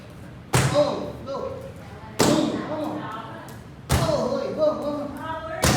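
Muay Thai strikes land on training pads: three loud, sharp thuds spaced roughly evenly, close up, each followed by a short ringing tail, with voices heard between the hits.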